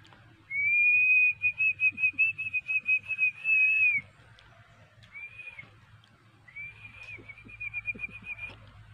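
A person whistles a steady high tune, first a long run of quick repeated notes, then a short phrase and another trilling stretch, fairly close and clear.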